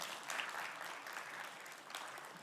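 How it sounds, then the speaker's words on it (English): Faint, steady applause rises from a conference audience after a talk on a tech event stage, a soft, even patter of many hands that sounds distant and continues without voices for a couple of seconds. "Please give him a round of applause."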